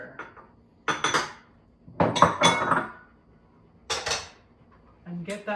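Cookie dough being mixed with flour, salt and cocoa powder in a bowl, irregular bursts of utensil scraping and clinking against the bowl separated by short quiet gaps, close and without speech.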